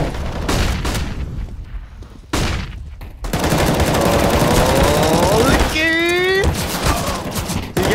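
Gunfire from a CS:GO match on Dust2 at a DreamHack Open tournament, including a USP pistol, comes as loud rapid bursts of shots with sharp cracks, while game effects and a caster's voice run underneath.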